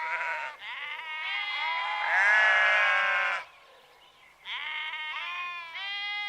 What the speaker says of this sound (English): let me play my sheep soundbite